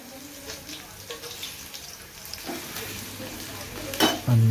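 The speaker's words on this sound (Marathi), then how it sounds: "फोडणीसाठी तेल, कांदा, मिरची हे पदार्थ टाकून फ्राय करून घ्यायचं आहे" Onion and green chili sizzle in oil for a tempering while a utensil stirs and scrapes the pan. The frying is moderate and close, with clinks of metal, and a louder clatter comes near the end.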